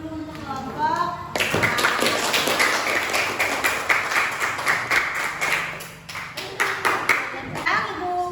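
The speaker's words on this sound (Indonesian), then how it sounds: "kita beri tepuk tangan dulu untuk kelompok" Students in a classroom clap for a student group, a burst of lively close applause with distinct hand claps, framed by children's voices before and after.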